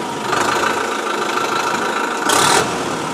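A Kartar 5936 tractor engine turns over and settles into a steady idle close by, a loud continuous rumbling drone with a brief rise in intensity near the end.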